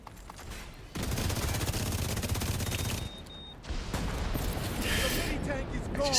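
Sustained rapid video game gunfire in a fast-paced shooter bursts loudly from about one second on, pauses briefly near three seconds, then resumes as a dense continuous barrage with game effects layered over it.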